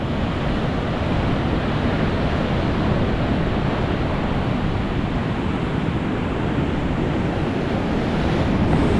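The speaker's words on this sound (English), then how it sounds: "Those waves look big to me." Ocean surf roars continuously at the main beach of Phu Quoc, Vietnam, a loud, dense wash of breaking waves mixed with wind rushing across the microphone.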